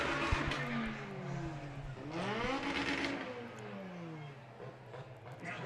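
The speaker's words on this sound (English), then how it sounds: "you can hear Kyle Templeton's car. That thing is just not liking being out there." A struggling race car engine on a track, Kyle Templeton's car, drones and shifts pitch as cars roar past, sustained and fairly loud with some commentary voices underneath.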